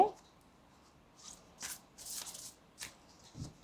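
Oracle cards shuffled by hand in a few short papery bursts, soft and close, with quiet pauses between them and no talking.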